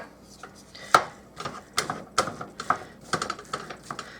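Ground beef burger being broken up with a utensil in a pan on the stove, a run of quick uneven taps and clacks against the pan, close and moderately loud, with no talking.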